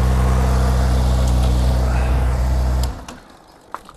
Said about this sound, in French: de passer une vitesse et de démarrer le moteur